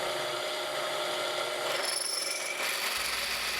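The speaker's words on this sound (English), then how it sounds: "Drilling out most of the bobbin chamber saves a lot of time, but does require a drill press." Steady grinding whir of a drill press cutting into metal, drilling out a sewing machine bobbin chamber, close and continuous, with a faint rising squeal partway through.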